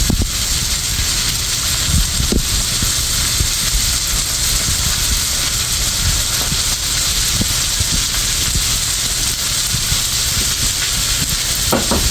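Capsicum frying in a pan with bitter gourd, a loud, constant broadband sizzle and hiss that stays steady throughout, with a few faint clicks of utensils underneath.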